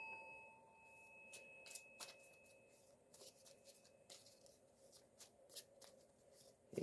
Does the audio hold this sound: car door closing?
no